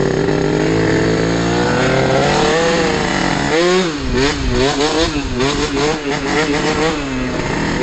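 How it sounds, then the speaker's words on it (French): MBK Booster scooter fitted with a 70cc Athena Sport kit, revving loudly and close up in short repeated throttle blips, its pitch rising and falling in quick waves over a steady engine drone. "je le rode en wheeling quoi, juste en faisant des coups de gaz comme ça"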